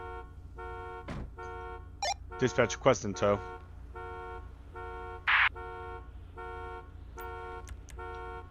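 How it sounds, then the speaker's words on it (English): Repeating car alarm in the video game GTA 5, pulsing in steady evenly spaced bursts throughout, with a dispatch radio voice speaking over it partway and a brief horn-like blast near the middle. "this alarm is annoying the shit out of me"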